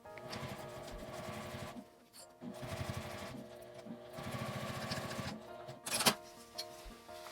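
A sewing machine stitching a seam on a zippered box pouch, bursts of rapid mechanical whirring and needle chatter broken by short pauses, with a sharp click near the end, moderately quiet and close.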